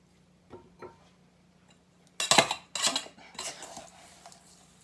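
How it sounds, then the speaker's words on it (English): Ingredients mixed in a bowl with metal utensils: a few soft clicks, then a burst of loud clattering and scraping clinks of cutlery against the bowl, up close and fading to lighter stirring. "go ahead and mix everything together"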